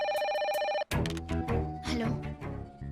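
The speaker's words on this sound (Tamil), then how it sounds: "ஃபோன் அடிக்குது." A telephone rings in short electronic bursts, then cuts off abruptly as busy music and sounds take over.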